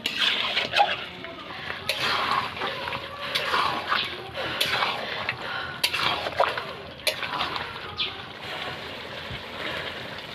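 Chicken is sautéed with spices in a pan as a spatula scrapes and stirs, giving repeated close scraping strokes over a soft, continuous sizzle.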